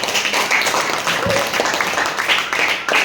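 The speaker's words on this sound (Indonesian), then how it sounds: "ayo kita beri tepuk tangan" Classroom of junior high school students applauding a group presentation, dense steady clapping filling the room with a few voices mixed in.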